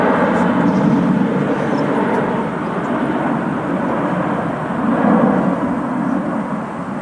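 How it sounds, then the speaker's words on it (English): A Jet2 Boeing 737-800 in the .com livery departs Manchester Airport, its engines giving a steady, loud broadband roar that swells and holds throughout with no talk. "Shot there of the Jet2 737-800 in the .com scheme departing."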